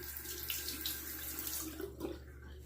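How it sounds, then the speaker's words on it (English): A bathroom tap runs to wet a Gillette Slim Twist razor before a morning shave, making a steady, close splashing rush of water with small burbles throughout. "let me wet the razor."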